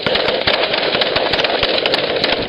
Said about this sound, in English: Instead, a massive blast of gunfire.